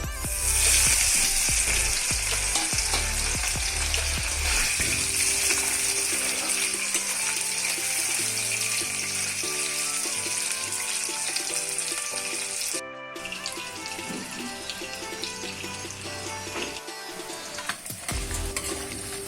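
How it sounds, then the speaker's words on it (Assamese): Loud, continuous crackling sizzle of paneer frying in hot oil, with intermittent stirring and scraping in the pan. "এতিয়া পনীৰখিনি ভাজি লম।"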